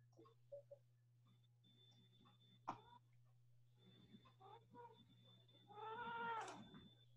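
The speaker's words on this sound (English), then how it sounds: "That's a cat." A cat meows faintly a couple of times over a steady low hum, ending with one longer, louder drawn-out meow.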